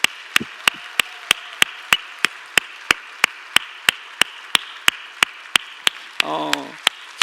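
A church congregation at a stewards' retreat claps together in a steady, even beat, about three claps a second, sharp and close throughout, with a short voice rising briefly near the end.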